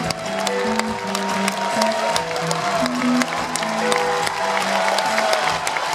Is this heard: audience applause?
yes